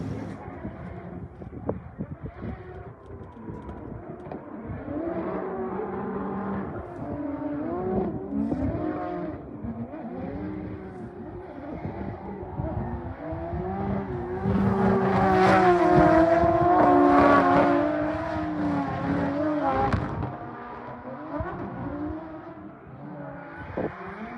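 A Finnish-built rally car on a first test drive, its engine droning steadily then revving hard and loud before easing back down, with no talk over it.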